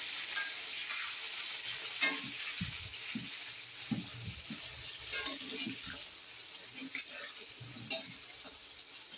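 Onion and green chilies fry together with black cumin seeds in hot oil for an okra dish, hissing and sizzling steadily, broken by scattered scraping stir strokes close by, with no speech.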